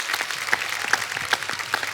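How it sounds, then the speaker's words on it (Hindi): A studio audience at a TV comedy show claps in a short, lively burst of applause, with rhythmic louder claps standing out from the crowd. "मैं चाहूंगा कि तमाम लोगों की तरफ से एक जोरदार तालियां बिल्कुल ये वरुण और उनकी टीम के लिए"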